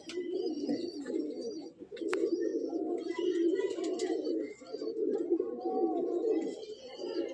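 A breeding pair of pigeons, male and female, cooing close by in a loft, repeated low throaty coos with a few faint chirps and light rustling in the background.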